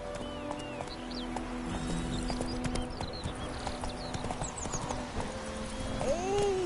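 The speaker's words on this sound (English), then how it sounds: "Whoa there, Roach" Horse hooves clip-clopping at a steady trot in The Witcher 3 video game, a continuous rhythmic beat under ambient birdsong and light background sound, with a brief whinny near the end.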